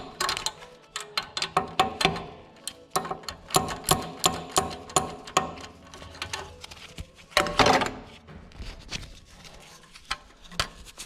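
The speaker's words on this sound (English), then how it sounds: "So this is a 5/16 bolt right here. Just gonna loosen this up with a ratchet." Ratchet on a 5/16 bolt of a Walker mower clicks in quick close bursts of ratcheting strokes with short pauses between, loud and near, with no talk.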